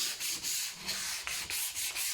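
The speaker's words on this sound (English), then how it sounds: "I'm just gonna give it light sand all the edges" Sandpaper, 220 grit, rubs back and forth by hand along the edges of an end-grain wooden cutting board in quick, rhythmic strokes, close and steady, with no voices.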